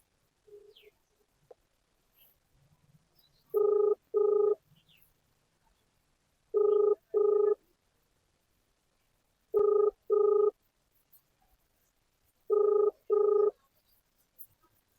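An unanswered phone call rings back in four evenly spaced double pulses, clean and steady against near silence, with faint stray noises between the rings.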